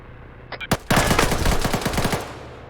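Bursts of rapid machine-gun fire from a submarine's deck guns in a video game, a few sharp single shots leading into a long loud rattling volley that slowly fades.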